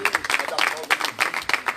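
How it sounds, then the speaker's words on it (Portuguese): Applause from a church congregation honoring Jesus at the close of a live service, heard as short bursts of clapping mixed with voices. "Vamos dar uma aplauso ao Senhor Jesus,"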